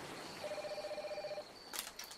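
Inside a hotel adventure video game, a telephone rings faintly with an electronic trill, followed by a brief brighter chime, with no talking.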